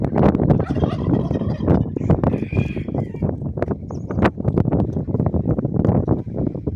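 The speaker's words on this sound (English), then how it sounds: "We got a hungry duck this morning." Farm ducks and other birds feed noisily at close range during a West Tennessee feeding, with dense, continuous gobbling, quacking and pecking and a few sharper calls breaking through.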